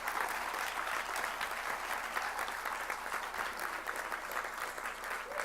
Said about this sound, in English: a huge round of applause for taking action.